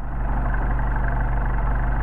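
A Mercedes 190SL with Solex carburetors idles cold while warming up on a freezing day, a steady low engine rumble that holds evenly throughout, close and alone with no talk.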